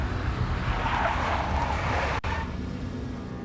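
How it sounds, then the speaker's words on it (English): A big black Mercedes skids in the video game Max Payne, giving a sustained, loud tire screech over engine roar, cut by a brief dropout before the skid carries on. "A big black Mercedes."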